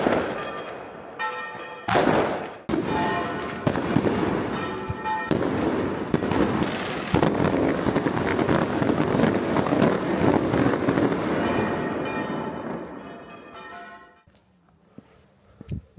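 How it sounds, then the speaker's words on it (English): A rapid barrage of fireworks bursts and crackles continuously over the town of Sagunto, loud and dense, with bells ringing faintly beneath before the booms fade out. "Nice surprise of the fireworks"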